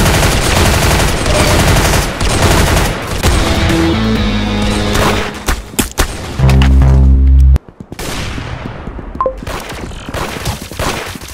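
Rapid bursts of video-game gunfire in Roblox Arsenal, loud and dense, with rattling automatic fire, heavy booms and a sustained low blast, then sparser shots and clatter toward the end.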